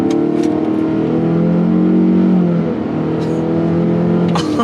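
The 4-cylinder engine of a 2020 Mitsubishi Outlander crossover with a CVT accelerating from inside the cabin, a loud, steady droning hum that holds a rising pitch for several seconds.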